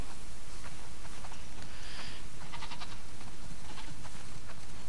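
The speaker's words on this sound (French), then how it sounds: "Oh, t'as vu un peu tous ces moutons?" Sheep bleat in a flock in the game The Last of Us Part II, several calls scattered over a steady wash of ambient background noise, moderately near.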